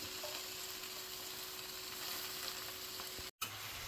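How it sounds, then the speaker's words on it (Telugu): Gongura leaves frying in a pan give a steady, soft sizzle that runs unbroken with no talk, cut by one very brief silent gap near the end. "ఈ లోపల గోంగూర కూడా చక్కగా వేగుతుంది"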